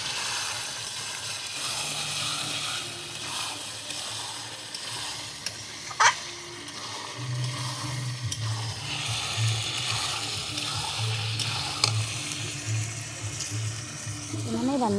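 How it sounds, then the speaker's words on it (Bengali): Meat being sautéed in a pan on a clay stove, a steady close sizzle and frying hiss with occasional stirring scrapes and a low rumbling hum, continuous throughout with a few brief clinks. "লাল লাল করে মাংস কষাচ্ছি।"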